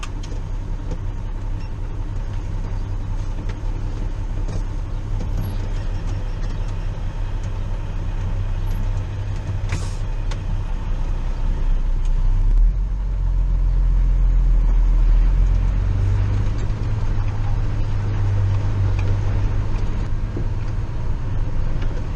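A freshly washed truck on its way to a quarry drives off, a loud steady engine drone from inside the cab with the low rumble swelling midway, no speech.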